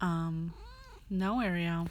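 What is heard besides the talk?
pet cat meowing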